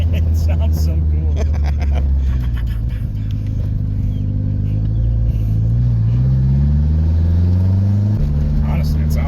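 A 1985 Charger's boosted engine revving while driving, a loud droning rumble whose pitch rises and falls with throttle, close inside the car with people talking over it.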